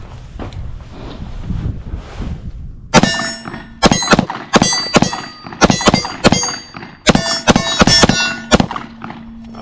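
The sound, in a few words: gunfire from Smith and Wesson CSX pistol at the range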